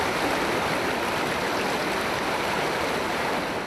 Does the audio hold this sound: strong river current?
yes